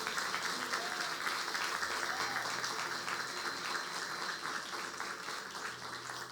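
A church congregation at a Sunday family service claps steadily, the dense, even applause holding at moderate level throughout with faint voices mixed in beneath it.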